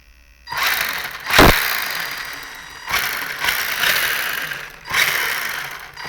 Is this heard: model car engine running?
yes